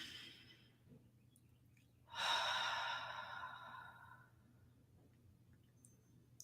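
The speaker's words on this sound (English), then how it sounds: "slow breaths, breathing in" One slow, deep breath drawn in close to the mic, a soft airy rush lasting about two seconds before tapering off against a quiet background hum.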